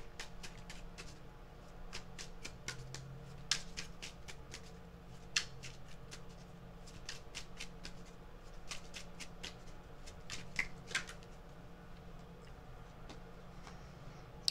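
Tarot cards are shuffled and drawn in a quiet room, giving a long run of light, crisp card flicks and taps with a few sharper snaps, faint and close, with no speech.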